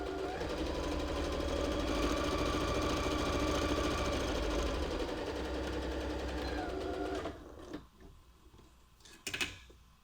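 A sewing machine stitches along every line of a seashell purse from a DIY kit, running steadily and loudly for about seven seconds before stopping, followed by a few faint handling sounds.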